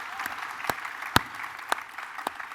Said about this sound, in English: Can we have another round of applause for these guys?